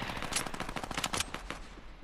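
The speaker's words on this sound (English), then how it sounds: "Loaded with this shotgun" Rapid gunfire bursts from a shotgun in a video game crackle in a fast, dense run, fairly faint and fading toward the end, with no talk over them.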